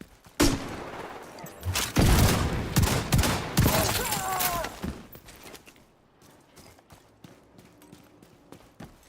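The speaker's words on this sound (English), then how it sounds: "Launching grenade." A grenade launcher fires in the shooter game The Division 2, a sharp thump followed by a burst of loud, rattling blasts and debris that fade away into quieter background rumble.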